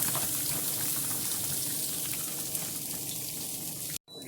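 Diced potatoes going into hot clarified butter in a pan give a steady, close sizzle and crackle, holding an even level throughout before breaking off abruptly near the end.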